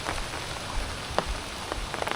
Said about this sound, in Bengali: শেষে প্রথম দিন আজকে বৃষ্টি হচ্ছে।